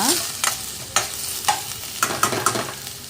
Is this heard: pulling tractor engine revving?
no